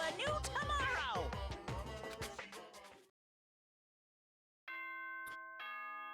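A chime from the Danganronpa video game, played before a morning school announcement. A rich musical passage ends, a second of silence follows, and then a sustained bright bell-like tone rings with sharp clicks.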